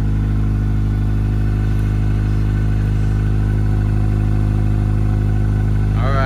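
A 2005 Acura RSX with a 2.5-inch exhaust and race header idles steadily and loud throughout, with a strong low engine drone and no talking.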